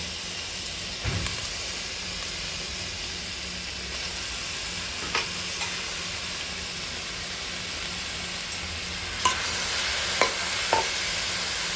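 Chopped spinach with turmeric stir-fried in a pan for a besan pithla, a steady soft sizzle and hiss with occasional spatula scrapes and taps, close by, no talking.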